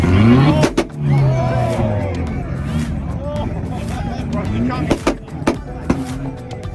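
A Honda S2000 on two-step launch control at a car show fires sharp exhaust pops and bangs, a couple early and a quick cluster later, amid loud crowd chatter and talk.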